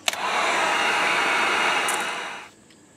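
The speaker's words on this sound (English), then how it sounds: "You want these good and dry before you take the wrap off." Hair dryer blowing over a freshly painted crankbait fishing lure in pearl black and chartreuse, a loud steady rushing roar that starts with a click, holds for over two seconds, then winds down.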